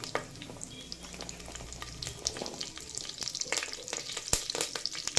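Small onions frying in oil with mustard seeds and curry leaves, crackling sizzle with sharp pops and spatula scrapes growing busier toward the end, close and unaccompanied by speech.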